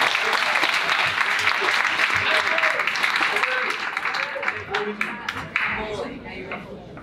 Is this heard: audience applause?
yes